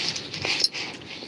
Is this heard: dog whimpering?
yes